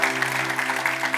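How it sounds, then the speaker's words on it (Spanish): Applause rises from a church congregation during a Spanish-language service, a steady dense patter of many hands over a faint sustained organ or keyboard tone, moderately loud and fairly close. "Denle un aplauso fuerte al Señor"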